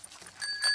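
A cartoon bicycle bell on Peppa Pig's bike gives a short, bright ring, preceded by faint soft rustling.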